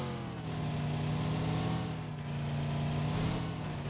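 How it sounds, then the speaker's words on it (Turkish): Car engine in PUBG Mobile, a steady loud droning hum with slight rises in pitch, continuous throughout without speech. "Bu arabanın sesi niye bu kadar çok çıkıyor?"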